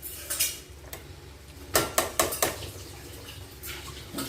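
A metal lid set onto a biryani pot, several sharp clattering clinks of metal cookware, close and clear with a faint watery background.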